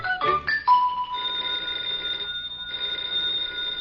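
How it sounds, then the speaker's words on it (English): Telephone bell ringing as an old-time radio sound effect, a sustained electric ring in two long bursts with a short gap between them, preceded by brief clattering tones, clear and up close. "the telephone's ringing."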